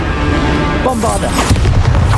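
Bombarda explosion spell cast in Hogwarts Legacy, a loud booming burst with a rumbling, crackling tail lasting about a second, set against ongoing game noise.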